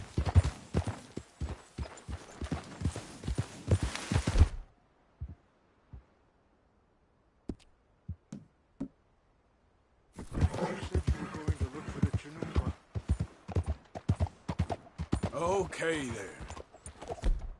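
A horse gallops in Red Dead Redemption 2, hoofbeats thudding in bursts that cut to near silence in the middle and then return, with a voice speaking briefly.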